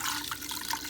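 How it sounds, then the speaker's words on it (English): Chicken stock pours into a pan of cooking mushrooms and chicken, a short steady liquid splash close by with no talking. "So I'm gonna pour some chicken stock."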